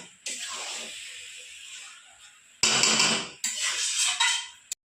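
Vegetables with dried loitta fish being stirred in a pot, with scraping clatters of spoon against metal in several bursts and a soft hiss between them, close and moderately loud.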